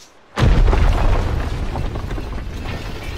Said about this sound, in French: Une explosion? C'est ta faute, ça! Qu'as-tu fait à mon château?